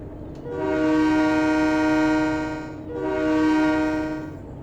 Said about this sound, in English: So if you listen to this horn sound, it's actually an American train horn.